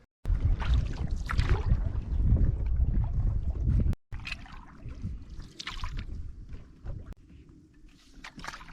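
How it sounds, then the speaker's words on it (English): Canoe paddling across a lake in Algonquin on a spring trip, with steady water swishes and soft splashes close by, wind buffeting the microphone, then quieter dips and trickles after a brief cut. "We're gonna go paddle by it."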